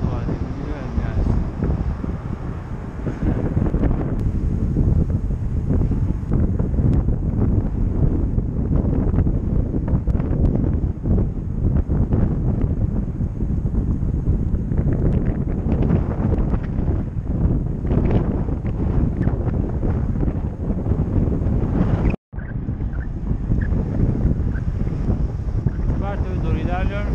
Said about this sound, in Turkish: Rüzgar karşı esiyor. Tam olarak karşı esiyor.